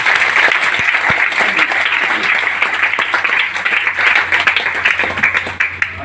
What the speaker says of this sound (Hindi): और एक रिएक्शन के लिए जोरदार ताली होगा।